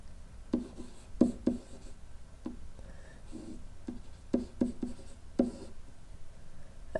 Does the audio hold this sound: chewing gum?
no